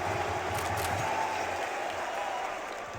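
Esports arena crowd at a Counter-Strike tournament, the BLAST.tv 2023 Paris Major, cheering and applauding in a steady roar that carries through the whole moment and tapers slightly at the end.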